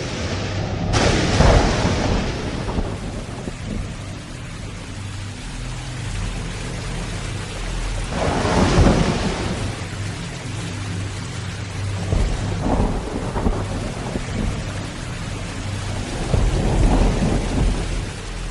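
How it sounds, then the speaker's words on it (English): Heavy, tumultuous rain pours down through a thunderstorm, with loud rumbling thunder claps rising and fading several times over a constant wash of rainfall. "There's been a tumultuous rain, and it has flooded the whole area."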